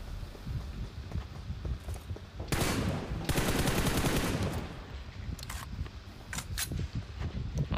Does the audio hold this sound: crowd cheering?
no